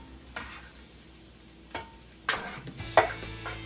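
Pancetta frying and being stirred in a pan, a soft low sizzle with a few sharper scraping bursts from the stirring.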